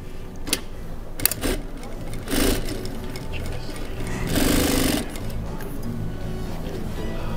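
Domestic sewing machine running fast while a long fabric strip about 4 cm wide is stitched and folded, a steady continuous mechanical whir with brief louder surges, and a voice talking over it.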